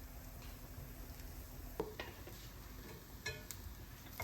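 Garlic frying in a pan as it turns lightly brown: a soft steady sizzle with a few faint scraping stirs and clinks of a utensil against the pan, quiet and close, with no talking.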